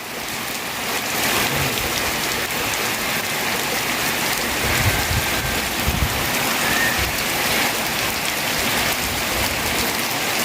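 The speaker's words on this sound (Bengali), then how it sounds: "জোরে বৃষ্টি শুরু হচ্ছে, আরো জোরে বৃষ্টি হয়।" Heavy rain pours down over farm fields, a dense, steady roar of drops that stays loud and even throughout, with no voices.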